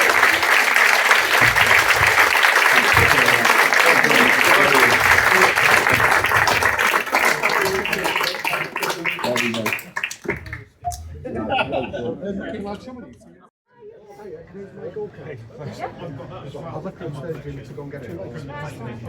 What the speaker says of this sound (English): please have a huge round of applause for Russell, Steve, Brian, Mike, Gary!